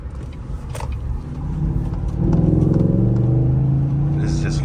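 A 2015 Cadillac Escalade 6.2 engine with a Banks cold air intake under light throttle, a close, rising intake growl that builds and holds steady as the vehicle speeds up.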